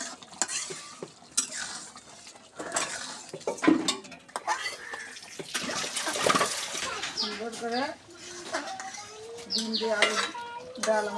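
Eggs are stirred over potato dal in a pan, a spatula scraping and clinking against metal with a light sizzle, while someone talks over the cooking.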